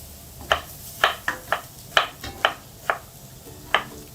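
Sharp, irregular knife chops through tomatoes on a cutting board, about ten distinct cuts, close and fairly loud with a quiet background.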